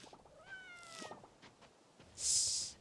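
A cat in the video game Coral Island 2 gives one rising meow, joined by soft game effects and a brief bright chime-like burst near the end, fairly faint.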